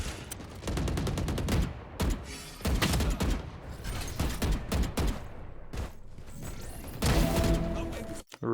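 Gunfire in a first-person shooter video game, loud rapid bursts of automatic shots in quick volleys broken by short pauses, close and dense, with no talking.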